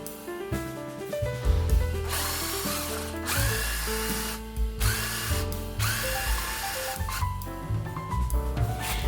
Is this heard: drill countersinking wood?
yes